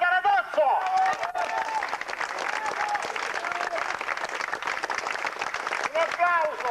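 Steady crowd applause at an outdoor medal presentation during a 1996 memorial event in Buccheri, Sicily, continuous clapping with a voice over a PA heard at the start and end.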